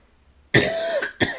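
A single harsh, close cough followed by a shorter second cough a moment later, with quiet before them.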